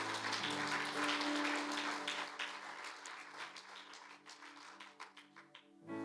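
Clapping from a church congregation during a Spanish-language sermon, a dense broad patter that fills the first few seconds, then thins and fades into scattered claps toward the end.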